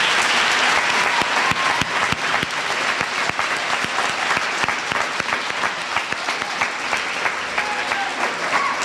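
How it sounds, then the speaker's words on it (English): Steady, dense applause from a large audience honoring veterans at a middle school Veterans Day ceremony, a full room of clapping hands that holds at an even level throughout with no talking. "Please give them a round of applause."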